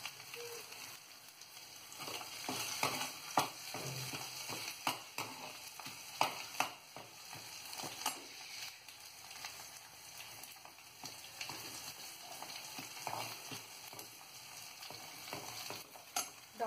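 Whole spices (bay leaf, cloves and black pepper) fry steadily in hot oil for a Mutter Paneer base, giving a continuous close sizzle with crackles and stirring scrapes throughout and no speech.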